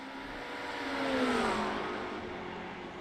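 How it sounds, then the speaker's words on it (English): A race car in a six-hour endurance race closes in on and passes two other cars on track, its engine note rising and swelling near then easing away, with steady engine roar throughout. "Kiwi car coming up, getting ready to get past these two"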